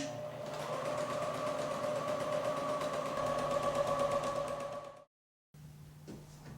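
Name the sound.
sewing machine stitching a quilt seam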